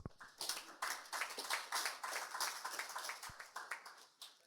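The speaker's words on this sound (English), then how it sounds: "I'll ask the specialist to clap for you." A group at a reproductive health symposium clapping, uneven and scattered at first, then settling into a fuller round of applause that tapers slightly toward the end.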